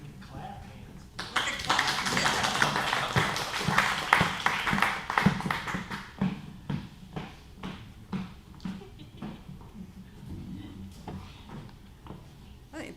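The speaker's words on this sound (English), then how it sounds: "We can clap hands." A congregation clapping hands together, a dense burst of applause that thins into scattered individual claps, with voices mixed in.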